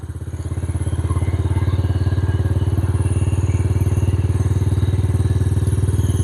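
Small Yamaha TTR50 motorcycle engine warming up on a cool morning, a fast steady putter that swells in the first second then holds loud and close, running alone without speech.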